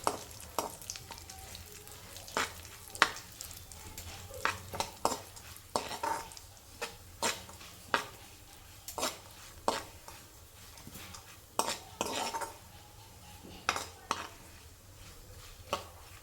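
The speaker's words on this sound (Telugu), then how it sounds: "ఇవి కొంచెం కలర్ చేంజ్ అయ్యే వరకు వేయించుకొని ఫ్రై చేసుకొని సైడ్ తీసేద్దాం" Grated carrot for carrot halwa fries in ghee in a pan, a soft continuous sizzle broken by repeated sharp scrapes and clinks of a spoon stirring against the pan.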